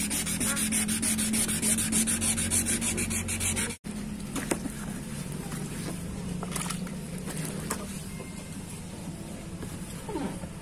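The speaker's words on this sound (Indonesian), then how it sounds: "Kita tinggal amplas pada bagian lampu yang kedua ya" Steady rhythmic sanding of a yellowed car headlight, sandpaper rubbing back and forth on the hard plastic lens up close, continuing for several seconds with a brief break.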